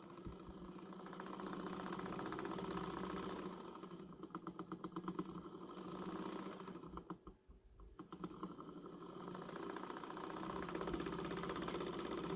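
Small electric gauge motor running off an adjustable low-voltage supply, between 1.5 and 3.5 volts, with a steady buzzing whir and rapid ticking that wobbles and shifts in pace as the voltage changes, heard close with no talking.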